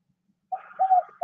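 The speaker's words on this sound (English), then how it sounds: "That's a loud bird." A loud bird calls outside, giving short cooing, dove-like notes in a quick run of two or three clear calls, close and alone.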